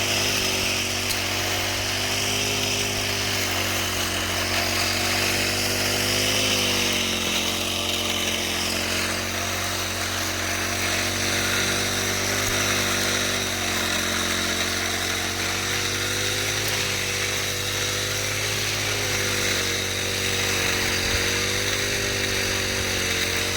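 A grass trimmer with its guard removed cuts grass close to the ground, its engine droning steadily and loudly throughout, its whining pitch wavering slightly as it cuts, with no speech.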